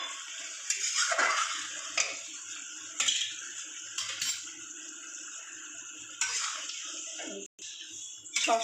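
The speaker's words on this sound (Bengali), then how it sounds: "এইবার আমি জল দিয়ে দিলাম।" Water is poured into a pan of mustard-poppy seed fish curry made with aar fish, with a steady broadband splashing wash broken by a few short clinks of utensils against the pan, close and moderately loud, no talking.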